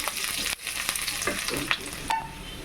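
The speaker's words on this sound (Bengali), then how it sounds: "ভালো করে ভেজে নেব।" Onions sizzling in mustard oil in a wok, a continuous crackling fry broken by stirring clatters and a brief tonal scrape, close and loud.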